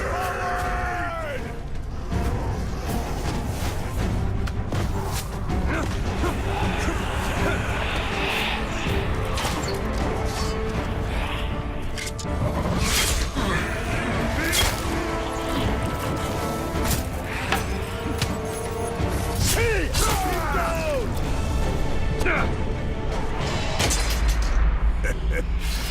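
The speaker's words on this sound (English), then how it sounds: "Destroy the gate!" A gate being smashed in the Middle-earth: Shadow of War video game, a trailer battle full of crashing impacts, booms and clashing amid a roaring crowd, with orchestral music and shouting voices throughout.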